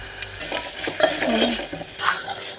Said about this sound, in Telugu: కాస్త సాల్ట్ వేసుకుని ఒకసారి మంచిగా మిక్స్ చేసేసుకున్నాం